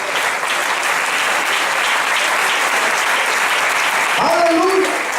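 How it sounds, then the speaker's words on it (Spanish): A church congregation applauds during a sermon, a sustained even wash of many hands clapping, with a voice briefly rising near the end. "Usted verá si le brinda un aplauso a Jesús."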